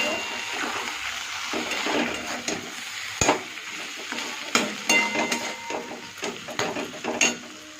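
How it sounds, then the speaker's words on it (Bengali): A spoon stirs potato filling sizzling in a pan with freshly added coriander leaves, with steady frying hiss and repeated sharp scrapes and clinks against the pan, close and moderately loud. "ধনে পাতাটা দিয়ে একটু লাড়িয়ে চাড়িয়ে নামিয়ে নেবো।"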